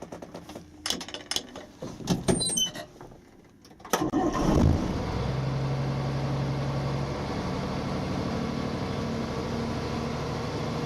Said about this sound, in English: Safe start engine.